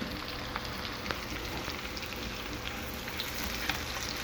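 Cabbage frying in a pan with bacon and mushrooms for Southern fried cabbage: a soft, steady sizzle with faint scattered pops, no voice.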